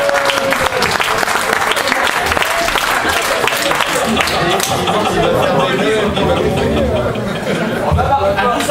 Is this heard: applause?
yes